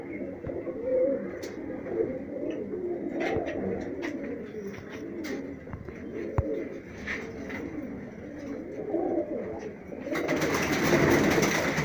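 High-flyer pigeons in Rajsamand, Rajasthan coo in a steady, overlapping murmur close by. A single sharp click cuts in midway, and a louder rustling wash rises near the end.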